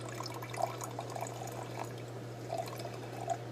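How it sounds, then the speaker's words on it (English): Smirnoff Ice Screwdriver is poured from a bottle into a glass, a faint, steady liquid trickle with a few soft splashes and no talk. "let's pour some Smirnoff Ice Screwdriver"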